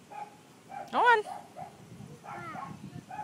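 Dogs bark and whimper at home, a sharp yelping bark rising out of softer whines, with people talking faintly in the background.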